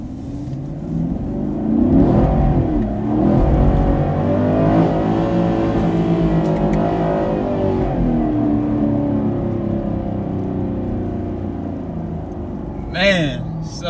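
A 2019 Camaro SS in track mode revs hard as its wheels spin and lose traction on a wet road, the engine note climbing and falling loudly while someone talks over it.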